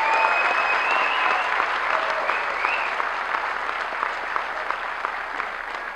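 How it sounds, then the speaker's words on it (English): A large audience at the 2013 Olympia 212 Showdown press conference applauds founder Joe Weider, a dense, steady wash of clapping that fills the room with no voices over it. "So how about a big round of applause for our founding father"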